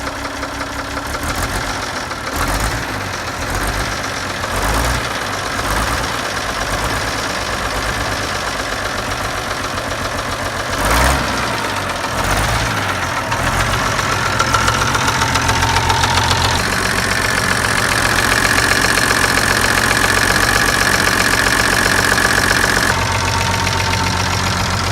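Nuffield tractors, including a 1060 with a six-cylinder engine and a four-cylinder unit, running close by with a loud, steady diesel chug and knocking throb that revs up and down, with no one talking over it.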